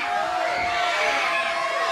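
A wrestling video game arena crowd roars in a continuous, dense wash of voices, sounding displeased and restless, filling the whole stretch at an even level.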